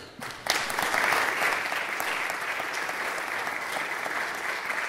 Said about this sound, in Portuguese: agora você pode dar uma salva de palmas